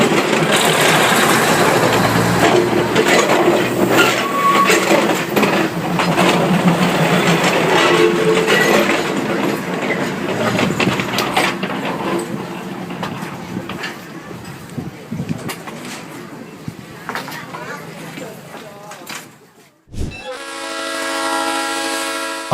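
Train rolling slowly through a Thai market built directly on the railway tracks, a loud, close, continuous rumble with wheel clatter, then a sharp horn blast near the end, with voices talking over it.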